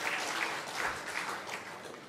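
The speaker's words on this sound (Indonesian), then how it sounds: "Berikan tepuk tangan buat Tuhan." A church congregation applauds together, a steady wash of many hands clapping at moderate volume throughout, with no voices standing out.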